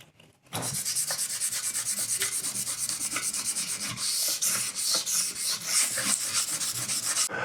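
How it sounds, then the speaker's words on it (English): Light hand sanding of a bathroom vanity before painting, a close, continuous rasping scrub in quick back-and-forth strokes that starts abruptly and keeps a steady rhythm, with no talking. "So I'm just going to give this a light sand first of all"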